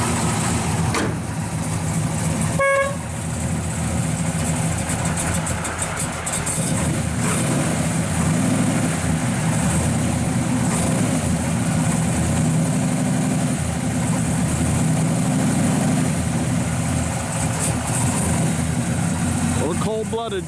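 A 1967 Chevrolet Chevelle SS 396 with a four-speed and an aftermarket cam idles steadily, a loud, low rumbling engine throughout with a brief sharp noise early on.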